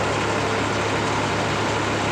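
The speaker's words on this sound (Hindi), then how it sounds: "50 हॉर्स पावर ट्रैक्टर है। आवाज़ सुनो" A New Holland 3600-2 50 hp tractor engine runs steadily at 1400 rpm, giving a constant low diesel drone with an even, unbroken hum from start to finish and no voices.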